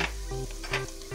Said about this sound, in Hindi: और इनको हम 5 से 10 मिनट तक फ्राई करेंगे।